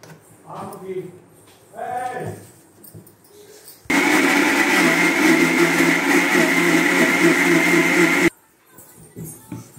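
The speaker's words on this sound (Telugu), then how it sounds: "మ్యాంగో ముక్కలు ఇలా వేసుకొని మిక్సీకి వేసుకోవాలి" A kitchen mixer grinder blends mango pieces with fresh cream for mango ice cream, a loud steady whir running about four seconds between stretches of talk.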